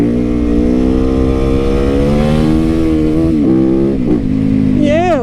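A supermoto motorcycle engine revs hard and steadily, its pitch climbing and dipping across several throttle blips, loud and close, with the rider's voice faintly mixed in.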